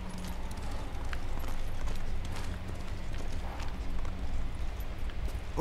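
A horse's hooves clip-clop steadily in the video game Ghost of Tsushima as it walks a rough path, close and rhythmic over a constant low ambient rumble.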